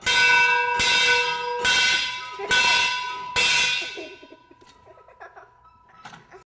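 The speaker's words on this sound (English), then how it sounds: "Go ahead and ring the bell." A fire engine's bell rings loudly in four or five evenly spaced strikes, each tone ringing on, then fades into quieter clatter and faint knocks.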